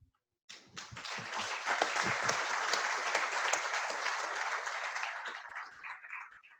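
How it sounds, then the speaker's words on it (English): Applause for sponsors at a 2019 conference opening ceremony: after a short silence, a roomful of hands breaks into sustained, dense clapping that holds steady, then thins slightly toward the end. "A round of applause to them."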